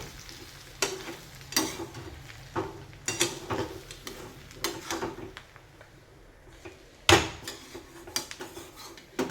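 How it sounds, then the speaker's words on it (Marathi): Coarse semolina is roasted in a hot tempering for buttermilk upma, with a quiet sizzle under repeated scraping strokes of a spoon against the pan. One sharp clatter comes near the end, and no one speaks. "हे आता छान परतून घ्यायचं आहे अगोदर"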